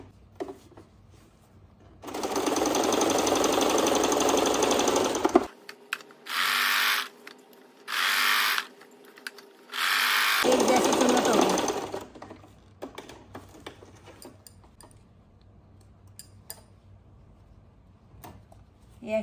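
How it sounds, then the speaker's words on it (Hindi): Sewing machine stitching elastic along the center of a pajama waistband, several bursts of steady whirring broken by short pauses, loud and close, with someone speaking between runs. "ये सिलाई लगा दूंगी, एकदम सेंटर में लगा दूंगी इलास्टिक पे"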